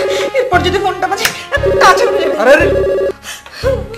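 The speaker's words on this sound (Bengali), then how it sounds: "এরপর যদি ফোনটা বাজে।" A telephone rings with a loud electronic ringtone, bright repeating tones in several bursts separated by short gaps over about four seconds, with a busy indoor background.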